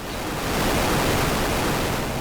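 Ocean waves surging and washing in a continuous broad roar, steady and fairly loud with no voices over it.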